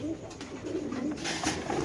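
Racing pigeons coo softly and continuously in a low, murmuring drone, a close flock sound with no one talking over it.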